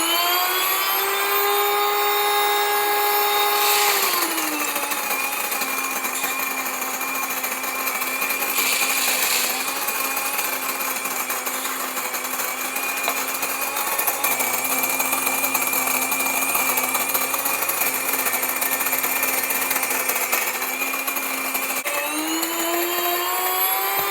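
An electric grain mill grinding meal for cornbread runs loudly and close in a steady whining drone, dropping in pitch early on as it loads and rising again as it winds up near the end, with no talk.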